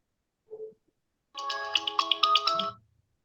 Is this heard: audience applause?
no